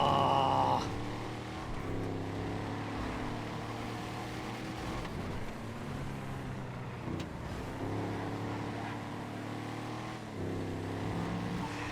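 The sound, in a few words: drift car drifting in FiveM video game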